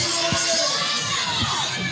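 Arena crowd at a wrestling event cheering for their champion, a continuous loud roar of shouts and whoops with no clear pauses.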